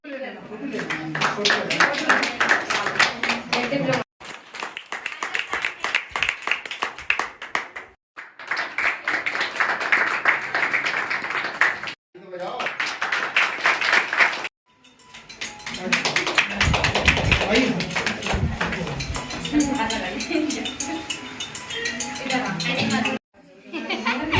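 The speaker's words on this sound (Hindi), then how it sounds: "अरे भैया तालियां तो बजा दो, कंजूसी मत करो।" Applause fills a certificate ceremony for graduates of a sewing course, clattering hand claps in repeated bursts broken by short gaps, with chatter and some laughter around them.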